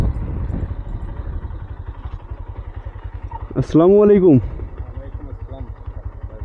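A motorcycle idles close by with a steady, low chugging pulse throughout, while someone speaks a greeting over it midway.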